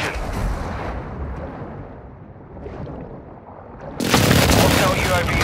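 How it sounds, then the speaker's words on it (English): Airstrike explosions in Call of Duty Warzone 2, a low rumbling boom that swells into a loud, close blast near the end, with a voice speaking over the rumble. "Hostile airstrike near your location."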